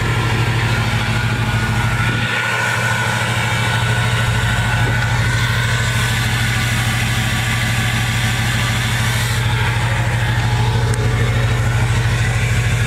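A car engine idles while warming up, rumbling through an exhaust pipe with no tip. The low, steady drone is loud and close and runs throughout without a break.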